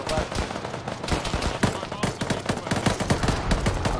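Rapid automatic gunfire in the military game Arma, loud, dense bursts of shots crackling continuously with sharp individual reports throughout.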